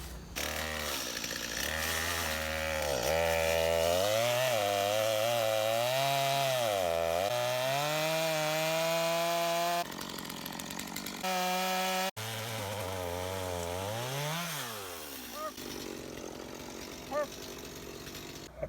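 A chainsaw cuts through a wide firewood log, held open with a felling wedge so the bar does not bind, its engine whining loudly and rising and falling in pitch as it bogs into the wood, then briefly revving free.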